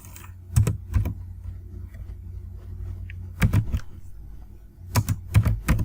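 HTML code being typed on a computer keyboard comes through as short, close bursts of rapid clattering keystrokes separated by quieter pauses.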